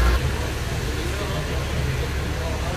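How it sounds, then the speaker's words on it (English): An Audi RS5 exhaust rumbling at a distance as the car drives away, a steady low engine drone mixed with roadway noise, with people talking over it. "the RS5 is leaving. It sounds so good, the exhaust, even from here."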